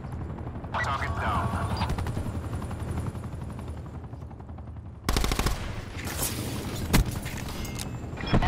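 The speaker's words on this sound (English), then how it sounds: "Attack chopper available for tasking." An attack chopper in the video game Black Ops 4 fires on the ground below, with rapid machine-gun bursts and rotor noise sounding steadily throughout. A louder burst of fire and a sharp boom come near the end.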